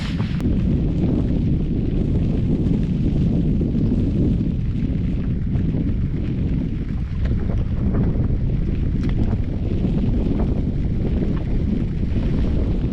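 Strong wind buffeting the microphone on a fishing boat out on a lake, a loud continuous roar with rumbling gusts and no break throughout.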